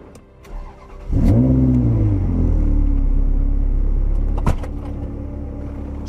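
A Ferrari 360 engine fires up and revs, a loud close roar that swells sharply then settles into a steady deep idle rumble with a brief blip near the end.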